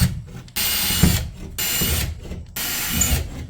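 A power drill with a 3/16-inch bit drills anchor holes in three sustained bursts, each about a second long, with short pauses between them. It sounds close by, with no talking.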